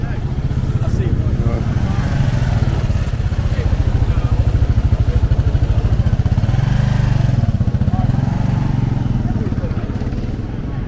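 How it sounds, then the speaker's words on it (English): Motorcycle engines rumble loudly and steadily throughout, a dense low throb with clattering, as several bikes pass close by at a No Kings Day protest in Philadelphia; voices are faintly mixed in. "Here comes the bikes, motorcycle bikes."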